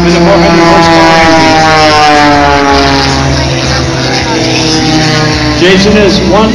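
A 400 horsepower one-of-a-kind Viper biplane at the 2012 Great Tennessee Air Show, its propeller engine droning loud and steady with shifting harmonics as it passes, continuous throughout.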